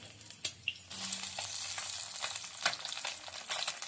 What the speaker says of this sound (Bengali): মাছের এক পিঠটা ভাজা হয়ে গেছে এবার আমি উল্টে নিচ্ছি